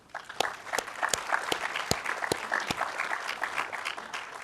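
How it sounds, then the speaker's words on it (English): Conference audience clapping after a talk at a spatial finance session: moderate, steady applause from a mid-sized room, with sharp individual claps popping through at a regular beat. "Generous with applause."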